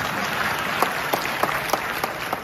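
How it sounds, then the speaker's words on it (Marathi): A political rally crowd gathered for a speech on Dharavi redevelopment breaks into loud, close applause, a dense clatter of many hands with a few sharper claps standing out, sustained for a couple of seconds with no speech. "इच्छुक अजून जोरात टाळ्या मारतात."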